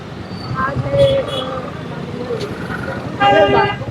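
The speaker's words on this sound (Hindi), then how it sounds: "9:45 बजे जाम देखिए" A night traffic jam in Rishikesh, with car horns tooting in several short bursts over idling traffic and road noise, the honks clustering near the end, while someone talks throughout.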